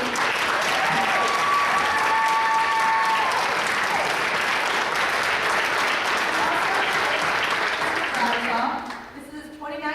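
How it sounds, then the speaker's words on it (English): Sustained applause from an audience in a school auditorium during a theater performance, with some voices and whistles over it, fading out near the end as a voice begins. "Let's give a round of applause, everybody."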